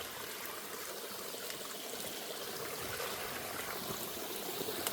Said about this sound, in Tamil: தண்ணி ஓடி வருது அப்படியே ஃபுல்லாக.